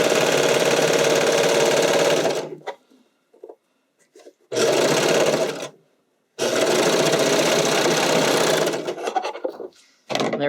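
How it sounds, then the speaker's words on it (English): A sewing machine stitching leg elastic onto a bodysuit runs in three loud, steady bursts, each a few seconds long and broken by short quiet pauses. "There we've got one leg elastic sewn in."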